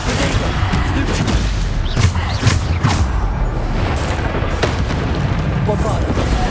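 Explosion spells cast in the Hogwarts Legacy video game boom repeatedly through continuous loud combat noise. Several sharp blasts rise out of the dense rumble, and speech runs underneath.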